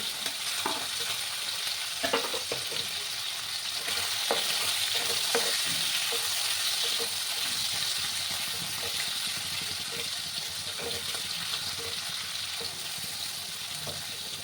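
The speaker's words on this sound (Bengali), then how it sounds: "এবার আমি ওই তেলের মধ্যেই চিংড়ি মাছগুলো ভাজবো" Marinated prawns, coated in cumin, salt and turmeric, fry in hot oil with a steady broad sizzle and occasional scraping stirs, close and fairly quiet, with no voices.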